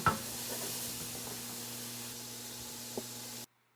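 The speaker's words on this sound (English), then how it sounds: "Now let's listen to that sizzle." Pork fries in a hot oiled pan with a steady, close sizzle and a faint low hum beneath it, a couple of small clicks along the way, before cutting off abruptly.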